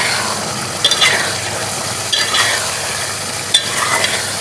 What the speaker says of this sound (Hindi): कुछ ज़रा भून लेंगे, मसाला कच्चापन ख़त्म कर लेंगे।